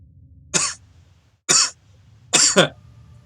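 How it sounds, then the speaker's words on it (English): Three separate harsh coughs, close and loud, spaced about a second apart, the last one a double burst, with quiet in between. "I was bloody coughing"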